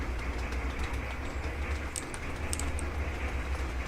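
A freight train running in the Sweet Transit video game gives a faint, steady low rumble with soft clicking and rattling on top, continuous and distant, with no talking.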